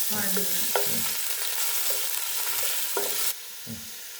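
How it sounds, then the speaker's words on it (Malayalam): Onion, green chilli and ginger fry in coconut oil with a steady bright sizzle, broken by a few scraping stirs of a spoon in the pan; the hiss drops lower near the end. "അപ്പൊ ഉള്ളി പൊരിഞ്ഞിട്ടുണ്ട് കേട്ടോ"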